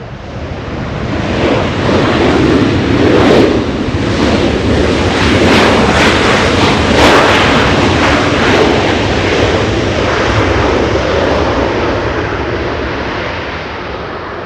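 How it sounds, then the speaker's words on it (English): A United Boeing 737-800 arriving from Las Vegas at LAX, a loud sustained broadband roar with wind rush that swells and holds for the whole pass before easing slightly at the end. "Looks like we have an arrival United 350 from Vegas"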